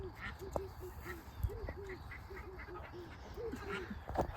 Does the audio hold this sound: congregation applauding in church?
no